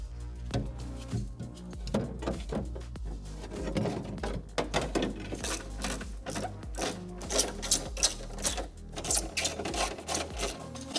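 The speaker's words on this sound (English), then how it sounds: "Now I'll mount back the new latch." A new soft-close door latch is mounted on a BMW E60, giving a close, busy run of quick metallic clicks, taps and rattles of parts and tools against the door, with no talking.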